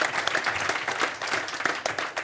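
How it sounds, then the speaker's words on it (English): A summit audience applauds in a short, steady burst of clapping from a crowd in a hall, dense and fairly soft throughout. "A round of applause for Ruben."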